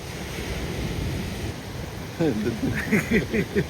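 Broad washing roar of sea surf rolls on steadily, with a voice starting to speak over it in the second half.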